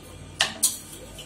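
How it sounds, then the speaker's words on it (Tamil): A spoon stirring chopped onion, chat masala and coriander toppings in a bowl gives two light, close clinks, with soft scraping in between, in a quiet kitchen. "இது எல்லாத்தையும் நல்லா கலந்துடலாங்க."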